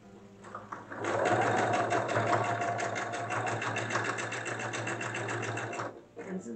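A sewing machine stitches piping onto a bodice in one continuous close run of rapid, even needle ticks that starts and stops abruptly, with a low mechanical hum underneath.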